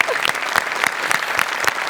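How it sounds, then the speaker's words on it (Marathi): A studio audience at a Marathi comedy show bursts into loud, sustained applause, dense clapping with a few sharper individual claps standing out, filling the moment without any talking. "एकदा आपल्या जुजबीसाठी जोरदार टाळ्या."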